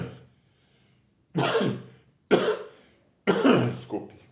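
Three separate coughs, one human voice, sounding close and loud in distinct bursts about a second apart after a quiet stretch.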